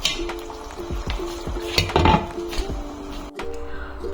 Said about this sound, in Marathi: झाकण लावून ठेवूया.